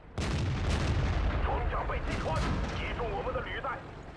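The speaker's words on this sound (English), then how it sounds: "He was able to hit me in my side armor and do quite a lot of damage" Booming tank cannon fire and shell impacts from World of Tanks rumble continuously and loudly, with a voice talking over the gameplay in the middle of the din.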